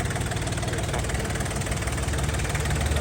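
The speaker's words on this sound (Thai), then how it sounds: "คันนี้จะเป็นรถไถเล็กเตาญี่ปุ่นนะครับ 21 แรง เครื่องยนต์3ตูบพวงมาลัยพาวเวอร์นะครับ" A small Japanese tractor with a 21 hp three-cylinder engine and power steering runs steadily at idle nearby, giving a continuous low, even mechanical rumble with no talk.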